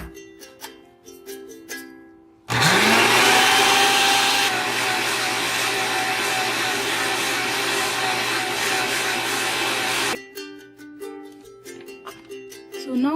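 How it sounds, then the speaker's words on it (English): A blender whirs loudly and steadily for about eight seconds as it grinds green coriander and mint chutney in a jar, starting abruptly and cutting off sharply, with music before and after. "Now we'll be blending the green coriander chutney in the jar."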